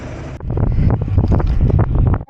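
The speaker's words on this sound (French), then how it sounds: "Je vois que les arbres bougent, il y a du vent." Steady wind buffeting a microphone outdoors in the Alps, with loud low rumbling gusts and no talk.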